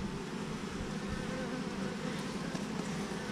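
Dense, continuous buzzing of many honey bees close by at an open horizontal hive, a steady humming swarm with no other sounds.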